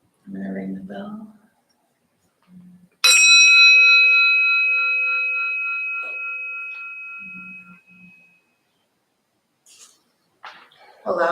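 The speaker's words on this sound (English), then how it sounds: "I'm gonna ring the bell." A meditation bell is struck once, giving a clear bright ring that decays slowly over about five seconds, with brief speech before and after.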